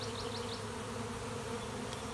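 Honey bee swarm buzzing steadily around a hive box late in the year, a dense continuous insect drone close by with no talk.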